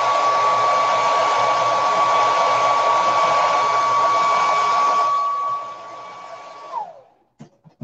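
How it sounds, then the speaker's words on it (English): A hair dryer runs continuously to dry paint, a loud steady whir with a fixed tone, then winds down and stops, followed by a few small clicks and handling sounds. "let's make sure that's dry"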